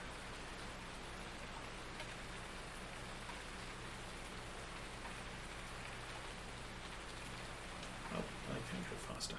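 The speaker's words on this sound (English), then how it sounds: "But again, for right now, it's raining." Steady rain falls in the farming video game Farming Simulator 19, a faint, even patter that continues throughout, with a few brief soft knocks near the end.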